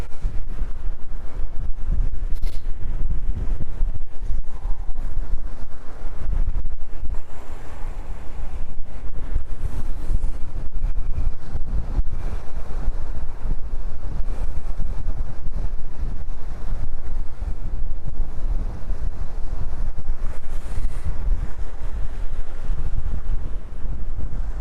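Gusty wind at JFK airport roars across the microphone for a long stretch, a loud, steady low buffeting that swells and eases slightly, with no one speaking.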